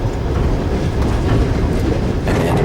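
An overnight sleeper train bound for Odessa rumbles steadily from inside the carriage, a loud, dense low roar with faint rattling and no break throughout.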